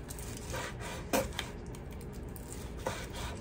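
A knife slices tender cooked Instant Pot baby back ribs into portions, giving a few soft knocks and taps against a cutting surface at close range, quiet and without talk.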